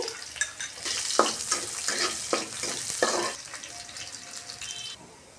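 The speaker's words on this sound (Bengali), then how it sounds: "দিয়ে দিলাম একটা রসুন কুচি, দিয়ে দিলাম একটা পেঁয়াজ কুচি, 2টা কাঁচামরিচ কুচি" Chopped garlic, onion and two green chilies hit a hot pan, giving a crackling sizzle broken by several louder stirring bursts in quick succession before it settles and fades.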